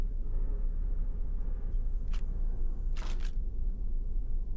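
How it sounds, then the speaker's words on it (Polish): An in-game camera in a video game takes a photo: two quick shutter clicks about a second apart, crisp and close over a steady low rumble of background ambience. "Zrobię ci zdjęcie."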